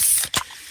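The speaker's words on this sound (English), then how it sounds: "Oh yeah, that's the sound of a freshly opened fizz-filled Pepsi." A fizzy Pepsi can is opened up close: a short hiss, a brief gap, then a sharp pop of the tab followed by fading fizz.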